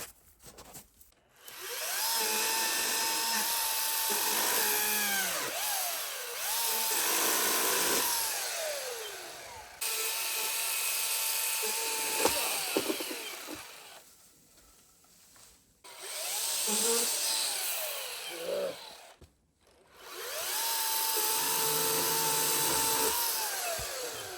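A pole saw cutting through tree branches that are a little too big for it, with repeated buzzing strokes that start and stop in bursts of several seconds, separated by brief pauses, fairly close and steady.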